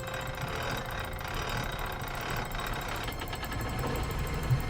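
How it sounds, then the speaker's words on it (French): A train engine in the video game The Vanishing of Ethan Carter, started with a hand crank, runs with a steady, even mechanical rumble and hum throughout, with no talk over it. "Le moteur a démarré."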